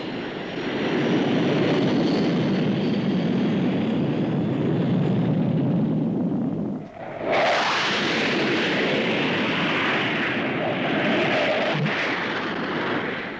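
A supersonic single-seat jet fighter type, first flown in spring 1959, roars loudly past at the 1959 Farnborough Air Show, a sustained broad engine roar with a brief dip before surging again.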